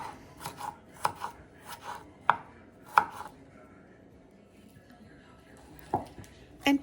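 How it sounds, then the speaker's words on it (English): A knife thinly slicing cucumber on a board, a run of sharp, distinct chops in an irregular rhythm, close and crisp, with quieter scraping between cuts and a pause before the last few strokes. "Then thinly slice it."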